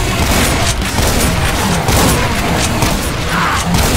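Loud, dense gunfire and booming blasts from a shotgun in Doom Project Brutality roar continuously through the whole stretch, with heavy impacts and mechanical clatter and no gap between them.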